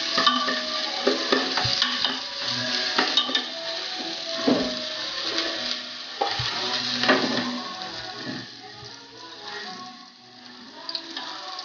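Garlic sautéing in a pan for pork sinigang, a steady sizzle and fry with repeated scraping stir strokes of a utensil, close and continuous with no talking.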